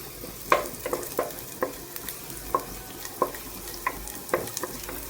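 Neem leaves being stirred into a frying pan mixture for Mangalorean-style fish curry, crisp spatula clinks and scrapes at an uneven rhythm over a light sizzle, close by and without speech.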